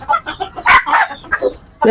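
A desi rooster clucks and squawks in short, choppy bursts, close and fairly loud, with a sharper cry cutting in at the end.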